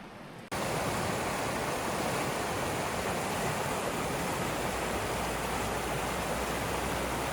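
The Virgin River flows through the Zion valley, a loud, steady rush of moving water that starts abruptly after a brief quiet moment and continues close and unbroken.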